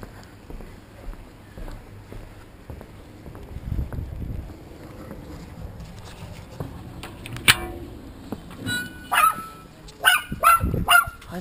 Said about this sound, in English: You're barking it.